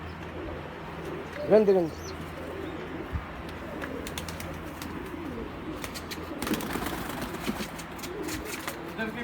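Baby pigeons of the Tady and Laal Ankh (red-eye) varieties give a short, close coo early on, with softer bird sounds after it while someone talks throughout.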